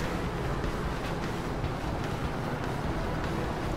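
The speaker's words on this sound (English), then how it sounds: "that's the car engine sound" A vehicle engine in the video game Red Faction Guerrilla drones as a dense, steady rumble, loud and continuous throughout with no voices over it.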